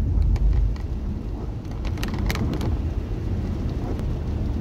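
Steady rain falling outdoors on a wet day during a coastal film shoot, a continuous hiss with a few sharper drips or taps, moderately quiet and heard without talk.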